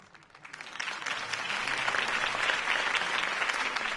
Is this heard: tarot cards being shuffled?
no